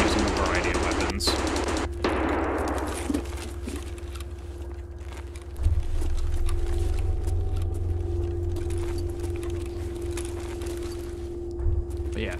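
Close-quarters P90 gunfire in Escape from Tarkov, with dense rapid bursts early on, then a low steady rumble of game ambience and scattered faint later shots.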